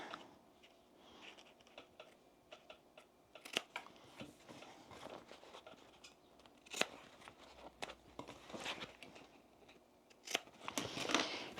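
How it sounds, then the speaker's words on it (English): Scissors snip the corners of a sewn fabric gift bag with non-woven interfacing, giving a series of short, crisp, close cuts at an irregular pace amid quiet handling sounds. "Now I'm going to snip my corners."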